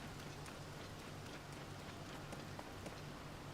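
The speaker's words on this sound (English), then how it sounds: "Just the sound of that rain." Rain in Zelda: Tears of the Kingdom falls as a constant soft hiss with scattered light drop patters, quiet and even throughout with no voices.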